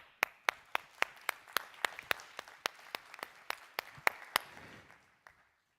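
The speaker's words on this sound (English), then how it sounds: "I want to give you a round of applause to everyone." A forum audience at Geospatial World Forum 2022 claps in distinct sharp hand claps, about twenty evenly spaced slaps over five seconds that thin out and stop, with no talking.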